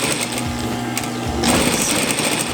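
Sewing machine stitching a fabric scrub cap, a loud close rapid rattle that slows and shifts pitch briefly before picking back up to a steady run, with no voices over it.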